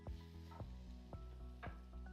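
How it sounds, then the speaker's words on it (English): Vegetables sizzle and crackle in a hot pan, a steady frying hiss broken by a few soft scraping stirs, fairly quiet and close. "it looks like it was sizzling a bit too much"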